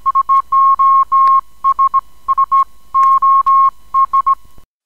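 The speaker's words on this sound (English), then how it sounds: "one that spells out SOS in Morse code" A crossfader on a Vestax Samurai DJ mixer taps out SOS in Morse code as a steady electronic tone: three short beeps, three long, three short, repeating in a clean, loud rhythm with no voices.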